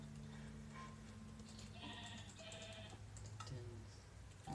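Sheep in Minecraft bleat several times, short game-style calls over a faint background hum, quiet throughout.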